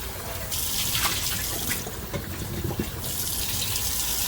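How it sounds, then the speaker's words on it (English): Tap water runs and splashes against a pan as it is rinsed, in bursts, the flow starting, pausing and resuming, close and steady, with no voices. "What I'm going to do is rinse out my pan that I'm going to use."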